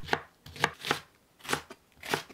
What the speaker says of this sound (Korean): 양파 2개를 1cm 두께로 썰어 주세요